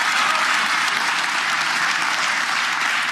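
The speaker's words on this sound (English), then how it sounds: "give them a round of applause" Crowd at a provincial political party congress breaking into applause, loud dense clapping that continues evenly throughout.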